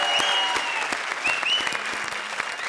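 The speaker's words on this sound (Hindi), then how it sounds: "कृष्णा के लिए जोरदार तालियां भाई" A studio audience on a Hindi comedy show gives loud applause, dense clapping running throughout with bright music or whistling tones layered over it.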